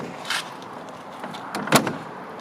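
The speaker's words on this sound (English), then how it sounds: "Close that door nice and easy." A car door on a 1935 Ford Tudor four-door touring sedan closes with one sharp latch thud. Softer clicks and rattles of the handle and mechanism come before it, in a quiet setting.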